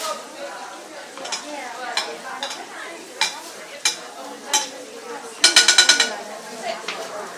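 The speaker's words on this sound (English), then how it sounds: "let all the fat run down, and then just baste it" Pork frying in a pan while its fat is spooned over the top to baste it, a steady sizzle broken by repeated scraping spoon and pan clinks, with a denser burst of clatter near the end.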